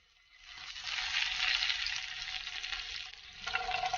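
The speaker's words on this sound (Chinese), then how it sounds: "油热之后，把牛排加进来，中大火煎2到3分钟" Loud, steady hiss of steak searing in hot oil over medium-high heat, rising quickly at the start and crackling continuously up close.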